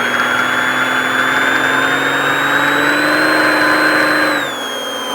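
An off-road vehicle's engine under hard acceleration, a loud steady drone whose pitch climbs gradually, then drops and eases as the throttle lifts near the end.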